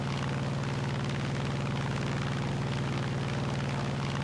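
Steady, loud propeller-engine drone of a P-47N Thunderbolt fighter plane in the War Thunder flight game, a continuous even roar with a strong low hum throughout and no talking.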